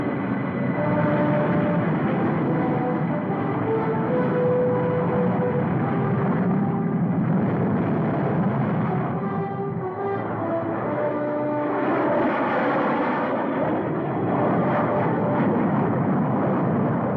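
Interceptor aircraft flying, a continuous loud droning engine roar that holds steady for the whole stretch with no voices.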